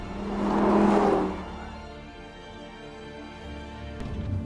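A single close-up roar from a 2017 Audi R8 V10 Plus supercar engine that swells over about a second, then drops into a lower idling hum before rising slightly again.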